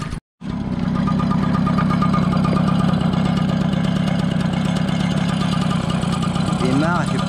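A 1987 MBK 51 Magnum moped engine idles steadily just after starting, a close, continuous buzzing drone with a faint ticking, following a brief silent gap at the start.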